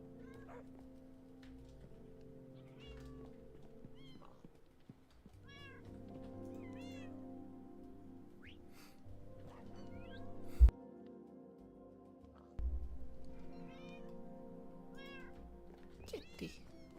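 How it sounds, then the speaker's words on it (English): A cat meows a few times in the Minecraft game, short in-game mews scattered over a steady background of game music and ambience. "Kitty."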